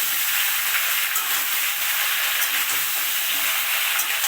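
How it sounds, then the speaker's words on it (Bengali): Mango pieces for a sweet mango pickle frying in hot oil while being stirred, giving a loud, steady, close sizzle and hiss with no talk. "আমি আমগুলো তেলে দিয়ে এভাবে নেড়ে নিচ্ছি"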